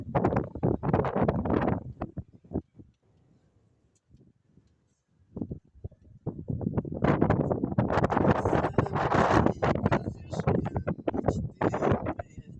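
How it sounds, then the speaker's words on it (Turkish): Strong gusts of wind buffet the microphone with a loud rumbling roar, dropping away briefly in the middle before blowing hard again. "Niye böyle rüzgarlı?"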